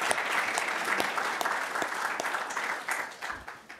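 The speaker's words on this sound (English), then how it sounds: "Another big round of applause for Ronan and the whole Blockchain at Berkeley group." Brisk audience applause at a Berkeley blockchain panel, a crowd of hands clapping steadily for a few seconds before thinning out slightly, fairly close and free of talk.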